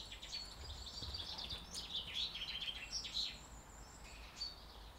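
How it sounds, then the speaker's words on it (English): Birds chirping in the woods near a camp stove, several bright tweets and short calls scattered over a quiet outdoor hush, fairly faint and without any talking. "Guys, there is birds all around us."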